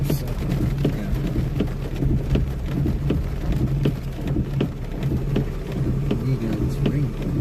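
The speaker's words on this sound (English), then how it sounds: "It's raining." Heavy rain pours steadily during a tornado storm chase, a dense, close wash of drops drumming on a surface with low rumbling underneath.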